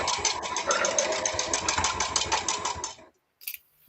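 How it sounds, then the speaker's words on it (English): A sewing machine stitches through thick fabric while making scrunchies and hair turbans, giving a rapid, steady mechanical chatter for about three seconds before it stops abruptly, followed by a brief faint click. "This sewing machine can sew through bricks, so I don't have to worry too much about it."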